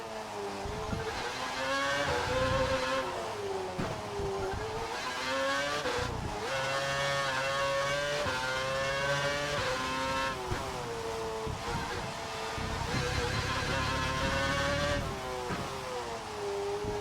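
An F1 race car on a wet track in a racing video game revs hard through corners, its engine pitch climbing and dropping repeatedly as it shifts gears, with tyre hiss and squeal between bursts.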